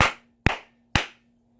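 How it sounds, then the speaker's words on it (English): Three sharp, single hand claps by one person, evenly spaced about half a second apart, close and crisp, each ringing briefly in a quiet room with a faint steady hum beneath. "So I'm going to clap a few times to clear out the energy."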